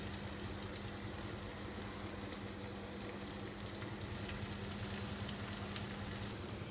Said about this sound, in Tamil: நல்லா வெங்காயம் பொன்னிறமாக ஆயிடுச்சு.